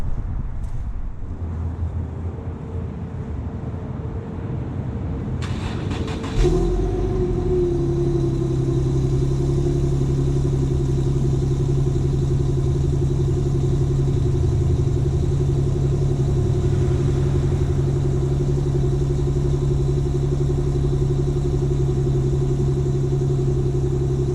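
An Infiniti G37 sedan fitted with ISR test pipes cranks over and catches after a few seconds, then holds a loud, droning cold-start idle close to the exhaust.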